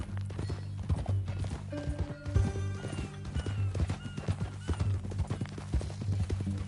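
Steady clip-clop of horse hooves with an occasional whinny in the video game Red Dead Redemption, moderately loud, over a low rumbling background.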